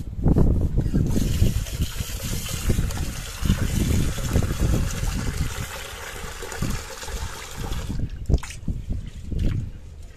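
Basmati rice is rinsed lightly in water while a paneer biryani is being prepared, giving a continuous close-up swish and slosh of grains and water that rises and falls over about ten seconds. A brief quieter moment comes near the end.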